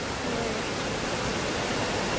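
River water rushing into a cave in Xiengkhouang, Laos, a dense, steady roar of flowing water with no pauses.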